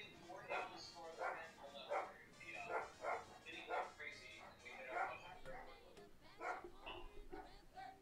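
A dog barks repeatedly in a steady series of sharp, evenly spaced woofs, fairly faint and mixed with background voices and noise.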